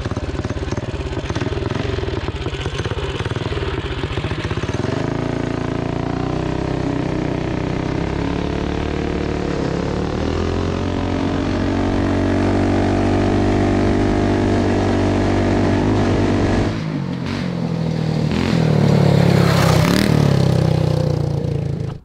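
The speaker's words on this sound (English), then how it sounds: "we just ran the Dirt Hog with the Tillotson 212 with the budget-built motor, Mod 2 cam, and we ran a top speed run" A Dirt Hog minibike with a budget-built Tillotson 212 engine and Mod 2 cam, making a top speed run: loud, sustained engine drone holding steady revs, then rising in a harder pull near the end, with no talk.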